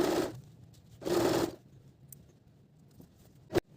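A sewing machine stitching the inner seam of a palazzo in two short, quiet bursts of rapid whirring, separated by pauses with a small tap near the end.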